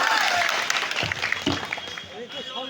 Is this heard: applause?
yes